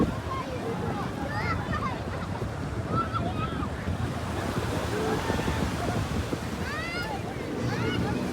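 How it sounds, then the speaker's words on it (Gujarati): Sea waves washing in at Gomti Ghat in Dwarka, a steady roar of surf with wind buffeting the microphone, crowd chatter and calls from bathers scattered through it. "જો એક મસ્ત મજાના મોજા આવે છે."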